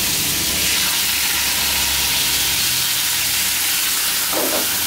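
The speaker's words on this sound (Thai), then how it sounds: "หลังจากนั้นเราก็ใส่น้ำเข้าไปนะครับ" Pumpkin stir-frying in a pan with water added, giving a steady, loud sizzle and hiss of steam that runs throughout with no talking.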